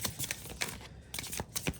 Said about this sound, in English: I'm being called to shuffle a different way.